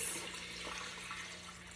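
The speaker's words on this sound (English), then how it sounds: "now I'm gonna add a gallon of water to this" Water runs steadily into a brine container for roasting a turkey, a continuous faucet-like splash and trickle at moderate level with no speech over it.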